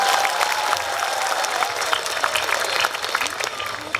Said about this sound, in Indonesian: Tepuk tangan untuk Kaliwungu.